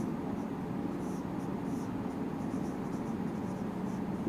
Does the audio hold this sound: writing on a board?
yes